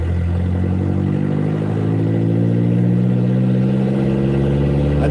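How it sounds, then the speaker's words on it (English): Loud exhaust of a farm vehicle's engine, a steady deep rumble running close and continuous, rising slightly midway, with no talking. "I know the exhaust is loud and it bothers some people."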